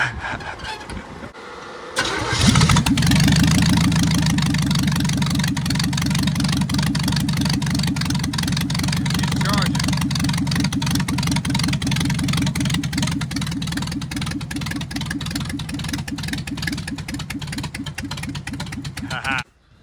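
A truck engine starts and settles into a steady idle, a loud continuous low rumble running alone for most of the stretch before cutting off at the end.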